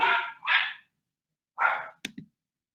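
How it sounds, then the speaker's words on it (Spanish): A few sharp dog barks in quick succession, then a pause and another bark followed by short yips, fairly close and loud in an indoor space, with no one talking. "Perdón por los perros."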